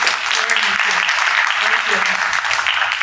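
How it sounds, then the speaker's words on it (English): Audience applause at a tech debate summit: dense, loud, sustained clapping from a large crowd, with a voice speaking faintly beneath it. "Round of applause."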